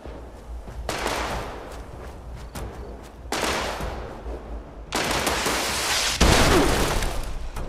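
Bursts of heavy gunfire and missile blasts erupt in a video game, several loud sustained volleys separated by brief quieter gaps, growing denser toward the end.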